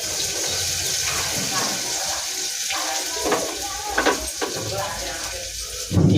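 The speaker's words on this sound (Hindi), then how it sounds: "अब मैं प्याज डाल रहा हूँ।" Onions fry in a hot pan with garlic, green chilli and ginger, giving a dense continuous sizzle close and fairly loud, broken by occasional stirring clatters and a sharp knock at the end.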